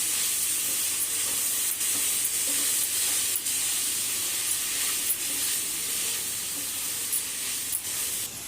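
Green beans fry in oil in a pan, giving a steady, loud, close sizzling hiss broken by soft stirring scrapes at irregular intervals; no one speaks.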